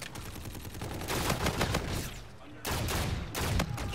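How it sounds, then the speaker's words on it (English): Gunfire in a team deathmatch video game, a dense flurry of loud sharp shots close by in quick succession with brief lulls, some overlapping reports and faint voices underneath. "I got him with a pistol!"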